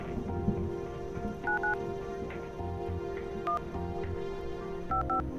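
Telephone keypad dialing in The Red Strings Club video game, several distinct DTMF tones in short bursts over a steady background hum and rain-like ambience.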